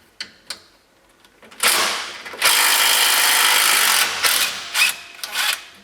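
Ratchet working stubborn bolts loose on a 2004 Polaris Ranger 6x6 mid axle, a few sharp clicks then long loud continuous ratcheting bursts, close up with no talking.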